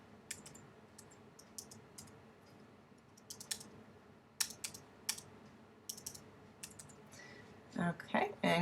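Typing on a computer keyboard to enter a library card number, scattered clicky keystrokes in short bursts at moderate distance, with a louder, denser flurry of keys near the end.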